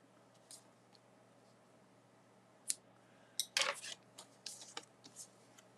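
Scissors trimming thread or fabric while creating a craft piece, a few quiet, sharp snips and clicks close by, separated by silence.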